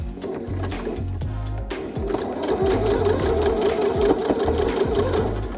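Sewing machine running steadily as it stitches across a denim dress pocket, a continuous close mechanical whir with a brief pause near the start.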